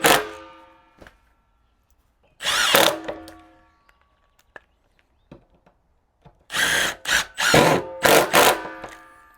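A power drill drives screws into whisky barrel wood in short bursts, one whirring run and then a cluster of rapid, loud pulses close by, with quiet gaps between them.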